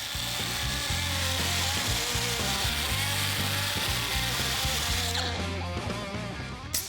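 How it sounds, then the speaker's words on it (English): A 7-inch grinder works steady and loud along the jagged, plasma-cut edges of steel C-channel for a tow truck build, a continuous harsh grinding drone that eases off near the end. "We'll follow that up with a 7-inch grinder to clean up the jagged edges that were left behind by the plasma torch."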